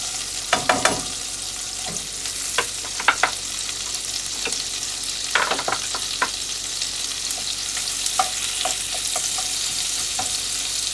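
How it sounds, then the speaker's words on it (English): Garlic browns in a hot pan aboard a boat, giving a continuous close, bright sizzle broken by scattered sharp pops and stirring clicks, with no talk. "by browning the garlic a little bit first"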